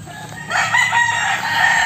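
A pet rooster crows once close by, a loud drawn-out cock-a-doodle-doo rising after a brief quiet start and holding to the end.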